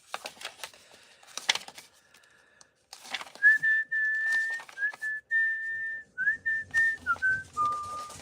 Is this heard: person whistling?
yes